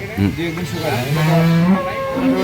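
Cattle low nearby, a drawn-out deep moo stretching across the middle, with faint voices and farm background around it.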